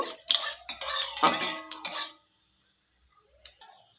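Whole spices, including a dried red chilli and five-spice phoron, are tempered in a pan while a metal spoon stirs them, making several close, bright scraping clinks that settle into a faint sizzle, with one last clink near the end.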